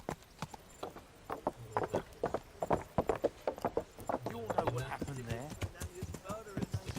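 Rhythmic horse hoofbeats sound while riding in the medieval video game Kingdom Come: Deliverance, a steady clopping gait running beneath someone talking over it.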